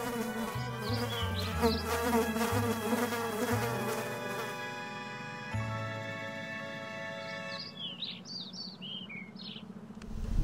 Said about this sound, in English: Have you seen the size of the mosquitos around here?